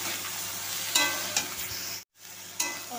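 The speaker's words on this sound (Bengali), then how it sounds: "দেবো হচ্ছে রাঁধুনি ফোড়ন। সেটাকেও ভালো মতো ভেজে নেবো।" Radhuni spice seeds fry in hot oil as a tempering, a steady close sizzle with a few sharp stirring scrapes and a brief dropout near the middle, with no speech.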